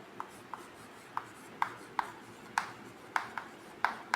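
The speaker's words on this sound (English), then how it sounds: "Here I want to write" Someone writes out the definition of force during a grade 8 physical science lesson: a series of short, sharp scratchy strokes spaced roughly half a second apart, close and fairly quiet, with no talking.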